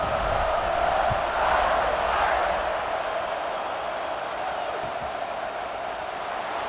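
A stadium crowd roars at kickoff in a college football video game featuring Notre Dame, a loud, broad swell of cheering that peaks early and then settles into a sustained, slightly softer din.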